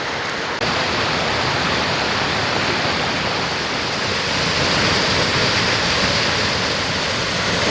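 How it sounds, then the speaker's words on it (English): Coldstream Falls, a waterfall about 15 feet high near West Forks, Maine, roars as a steady, dense wash of falling water, loud and close, with no voices over it. "And here's Mike admiring the waterfall."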